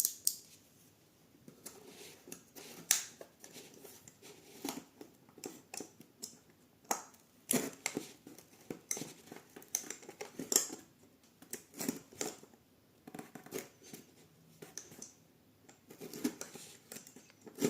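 Snipping and cutting at the seal of a Galaxy A20e phone, done left-handed: a steady run of close, sharp clicks and crisp snips with small rustles between them, irregular but continuous, with no talking.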